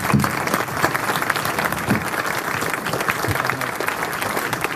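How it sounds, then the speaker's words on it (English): Steady audience clapping after a pitch presentation at an energy startup event, a continuous even patter of many hands at moderate volume with no talk over it. "Let's have a round of applause for Yuriy."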